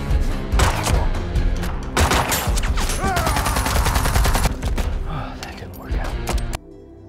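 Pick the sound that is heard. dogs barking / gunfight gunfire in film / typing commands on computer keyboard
gunfight gunfire in film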